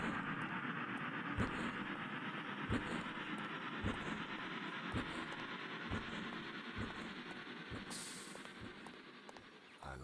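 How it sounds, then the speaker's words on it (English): A train departing in the video game AMOK Runner, with a steady rolling rumble and regular clickety-clack wheel beats, plus a brief hiss near the end. "Hurry up, the train's about to leave."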